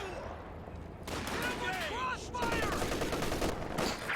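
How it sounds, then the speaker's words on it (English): Calliope rocket barrage in Company of Heroes 2, a dense crackling volley of launches and impacts with whistling streaks overhead, continuous and moderately loud, with battle chatter underneath. "Calliope barrage targeting the sniper"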